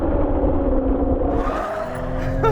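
A 2020 Toyota Supra braking hard on a track with big Brembo brakes, a loud close engine drone with tire noise that shifts and trails off as the car slows.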